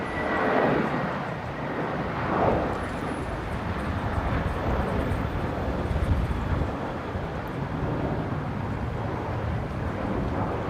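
A jet airliner roars steadily on approach to land on runway 19 left at Brisbane Airport, a broad engine rumble with wind buffeting the microphone and no talk.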